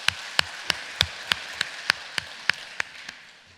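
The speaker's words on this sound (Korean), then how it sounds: "우리 하나님께 영광의 박수 돌립니다" Rhythmic clapping in a church service as a congregation gives glory to God: about a dozen crisp, evenly spaced claps, moderately quiet against a soft background hiss.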